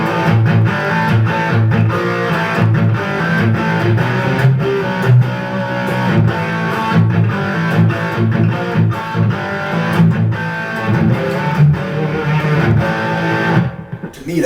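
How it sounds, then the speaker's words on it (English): Heavily distorted electric guitar through a Boss Powerstack pedal with the drive turned all the way up plays rhythmic chugging chords through an amplifier, loud and gritty, stopping abruptly near the end. "To me, that's a very good distortion."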